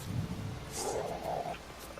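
A soldier in a Witcher video game cinematic roars, a short, gruff, throaty bellow heard up close and alone, with a brief rise and fall.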